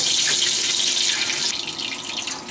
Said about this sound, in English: I'm going to fill up this tub with hot water, which is my hoses here that are hanging on the wall